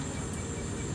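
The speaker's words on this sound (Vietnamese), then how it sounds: "Mưa vừa tạnh nên có con nhái kêu đúng rồi." A small frog croaks after rain, a steady dense buzzing trill filling the whole moment without pause, loud and close against a wet outdoor backdrop.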